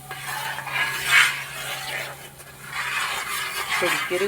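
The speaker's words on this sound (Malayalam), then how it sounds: "അപ്പം നന്നായിട്ട് ഇളക്കി കൊടുക്കാം." A spoon stirs coconut flower halwa cooking with ghee in a pan, giving soft scraping and a faint sizzle while a person speaks over it.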